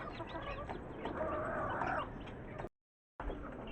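Hens and a rooster cluck softly while eating in a backyard poultry area, a continuous low chatter of farm fowl with a brief silent gap near the end.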